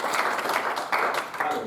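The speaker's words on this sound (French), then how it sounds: "je crois qu'on devrait vraiment acclamer encore une fois le Seigneur" Church congregation applauding and cheering during an evening worship service, a dense wash of clapping and voices filling the room for under two seconds, with a brief dip before the noise surges again.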